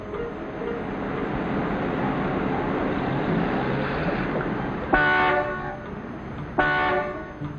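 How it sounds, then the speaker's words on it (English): Dense traffic jam rumble throughout, then two loud, sustained car horn blasts near the end, each lasting over a second, from a 1954 film. "Will you stop honking, Mac?"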